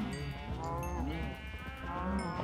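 Cows moo in the video game Minecraft, a few drawn-out bovine calls overlapping in quick succession, fairly quiet and close, with no talking over them.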